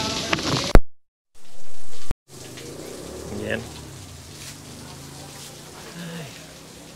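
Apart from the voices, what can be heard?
rain falling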